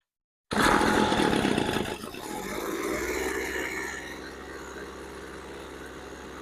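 A Tanaka leaf blower's two-stroke engine with a newly replaced carburetor starts loud and revving, then drops after a couple of seconds into a steady, lower idle that holds smoothly to the end.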